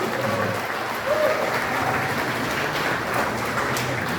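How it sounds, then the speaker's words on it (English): Sustained applause fills an awards ceremony hall for Asian American honorees in Georgia, a dense, even roar of many hands clapping that holds steady from start to finish, with faint crowd murmur beneath. "Imelda Young, give a big round of applause"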